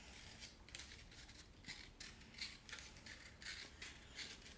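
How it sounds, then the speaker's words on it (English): Scissors snip a leaf shape out of recycled material for handmade jewelry, giving a steady run of quick, crisp cuts close by with no talking. "so we're gonna cut out our leaf shape"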